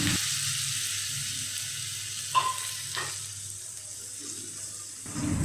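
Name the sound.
grated potatoes sizzling as added to frying pan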